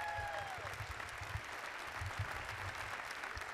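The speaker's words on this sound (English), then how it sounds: "Give Jalea a big round of applause." Large audience applauding at a mayor's State of the District address, continuous dense clapping throughout, moderately distant, with a brief tonal sound at the start and low rumbles underneath.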